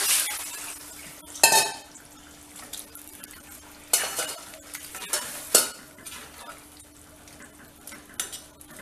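Thick potato gravy bubbles in a pan, sizzling faintly while a metal spoon scrapes and stirs it in a few loud bursts, with quiet clinks and a steady low hum in between.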